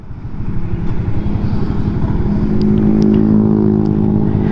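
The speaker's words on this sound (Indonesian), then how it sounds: "Sebenarnya syok jugalah bawa motor standard pekat ni. Sebab satu, dia tak bising dengan bunyi exhaust" A standard motorcycle with a quiet stock exhaust rides steadily along the road, its low engine drone close and continuous, rising slightly in pitch and volume as it goes, with no talking.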